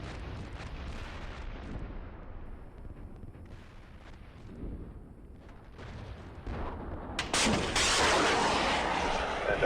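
Artillery fire in the tank combat simulator Steel Beasts Pro PE: a low, continuous rumble of distant impacts swells gradually, then a loud, dense burst of explosions takes over for the final seconds.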